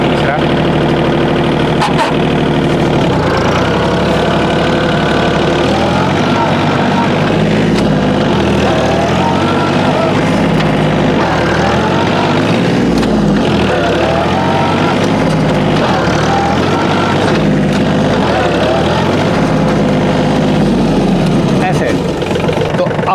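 Mahindra OJA 2127 tractor driving and speeding up in third gear, a loud, steady engine drone with a pulsing low rumble heard under someone talking throughout.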